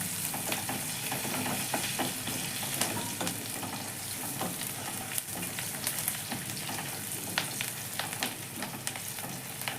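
Onions frying in a pan for a prawn dish crackle and sizzle steadily at close range, a dense continuous hiss dotted with small pops and light stirring, no voices.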